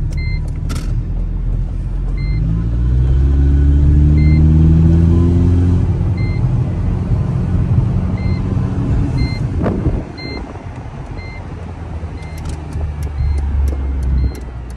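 A Mercedes SLK 200 drives along with a steady low engine hum and road rumble, a rising engine note, and a regular soft chime of dashboard beeps repeating throughout, heard from inside the small car.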